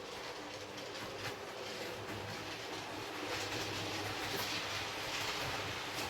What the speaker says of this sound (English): I've got a few trains to run, so I'm going to start off with what's on the outside line.